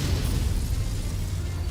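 A mech bay blows up in a MechWarrior game, a loud, dense rumbling burst that fills the whole moment with heavy low-end roar and no voices over it.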